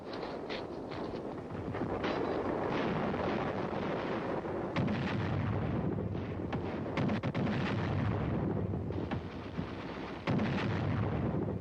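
Heavy military weapons fire from a bazooka and an 81mm mortar, a dense, continuous barrage of booms and cracking reports layered over each other, with sharper louder blasts punching through around the middle and near the end.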